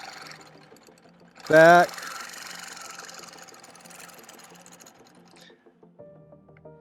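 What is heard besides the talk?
longarm quilting machine stitching in the ditch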